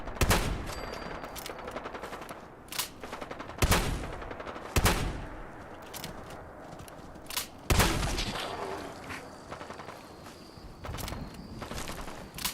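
Repeated gunfire from Fallout 4 cracks in sharp bursts across the clip, with several heavier shots standing out, over a constant dense layer of game noise.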